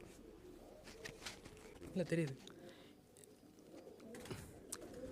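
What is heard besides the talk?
cooing of a German Stuttgart shaker pigeon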